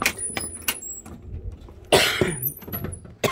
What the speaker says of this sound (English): Apologize for my cough.